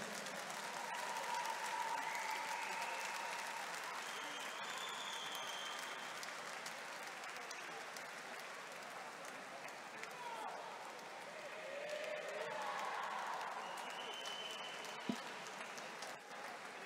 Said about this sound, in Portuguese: Uma salva de palmas para as nossas atletas.